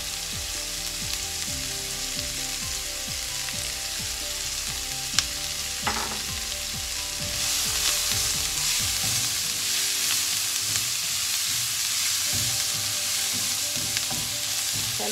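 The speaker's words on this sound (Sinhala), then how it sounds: "දැන් මේක අපි මෙන්න සුට්ටක් බැදගමු." Stuffed jackfruit flower curry (kos madulu) fries in a little oil, a continuous close hiss and crackle with occasional stirring scrapes and clinks, no talking.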